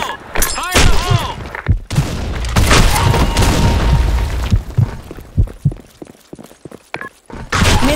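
A grenade explodes in the BlackShot online shooter, a loud booming blast set amid dense gunfire, thuds and clattering game effects, with brief voice callouts mixed in.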